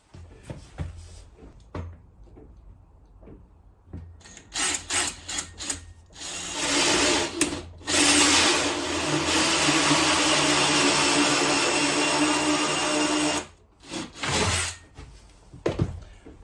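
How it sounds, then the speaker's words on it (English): A power drill whirs and bites into a panel in several bursts, drilling pilot and light holes in a narrowboat, one long continuous run in the middle, close and loud, with scraping handling noises between. "drill the pilot holes for the screws and drill the holes for the lights"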